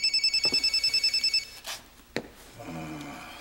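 A telephone bell rings in quick repeated trills for about a second and a half, fairly close and clear, then stops and is followed by a few soft handling clunks as the receiver is picked up.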